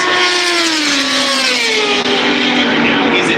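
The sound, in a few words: racing motorcycles, Ducati, at the Daytona 200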